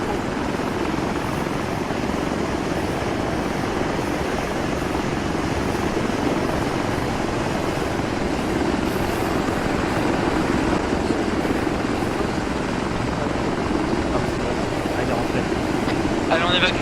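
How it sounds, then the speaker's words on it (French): A military helicopter in the video game Arma 3 drones loud and continuous, its dense rotor wash and engine roar filling the whole stretch without a break, while players talk over it. "10 secondes de l'hélico."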